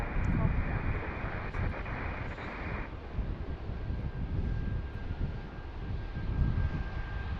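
Airliner arriving to land at Washington National (DCA), a distant engine drone that swells and fades slightly amid wind buffeting the microphone, with faint background voices.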